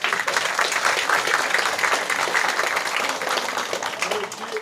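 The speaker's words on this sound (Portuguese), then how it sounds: "Uma salva de palmas para" A gathering at a certificate ceremony for a quilombo community applauds an elderly relative, with steady dense clapping from the crowd running throughout at moderate level while voices mingle underneath.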